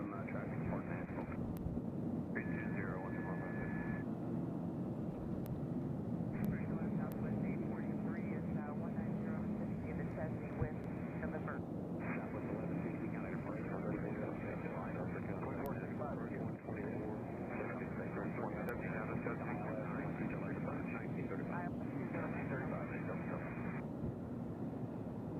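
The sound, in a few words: airplane coming in to land at Nashville airport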